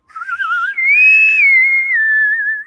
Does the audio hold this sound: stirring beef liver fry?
no